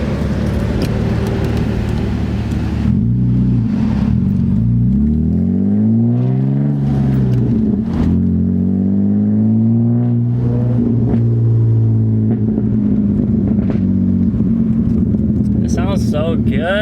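A BMW E36 328i convertible's engine rumbling loudly up close, sweeping up and down through repeated revs with rising and falling pitch, while a voice talks over it and crackling pops come toward the end.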